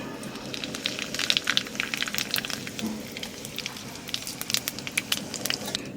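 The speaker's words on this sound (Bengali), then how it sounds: "তেলের মধ্যে দিয়ে দেবো জিরে আর তেজপাতা" Cumin seeds and bay leaves dropped into hot oil crackle and sizzle with a dense, steady frying hiss, close by and without talk.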